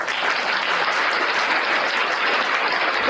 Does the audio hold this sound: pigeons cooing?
no